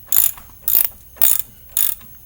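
Four quick bursts of ratchet clicking, evenly spaced and close, as a hand ratchet snugs up brake bolts, with near silence between each stroke.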